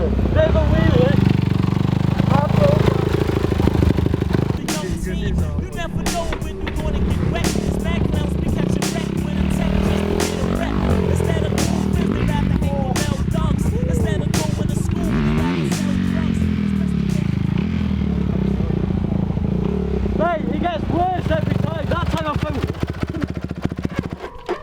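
Dirt bike doing a wheelie in a skatepark, engine revving and buzzing steadily under loud nearby talk and shouting, with bursts of acceleration.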